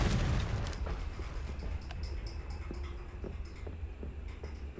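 The Confringo explosion spell in the Hogwarts Legacy video game goes off in a loud rumbling blast at the start, then fades into lingering crackle and scattered small pops.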